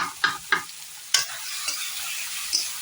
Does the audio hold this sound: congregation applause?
no